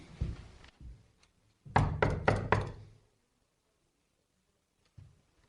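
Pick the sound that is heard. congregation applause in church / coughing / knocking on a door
knocking on a door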